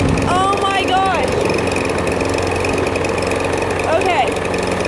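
A lawn mower engine runs steadily and loudly while mowing a Bermuda lawn, pouring out heavy white smoke, a constant close drone with brief whistling tones over it.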